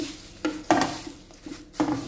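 Poha is mixed with oil by hand in a kadai. A few soft, separate rustles and light scrapes come close up and fairly quietly, with short pauses between them and no talking.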